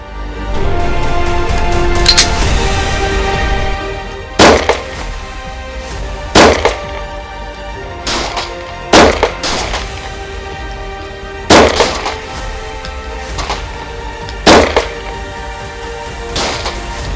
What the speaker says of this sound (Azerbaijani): ilk dəfə olaraq mən də əməliyyatçılarla birlikdə silah atışında öz dəqiqliyimi yoxlayacağım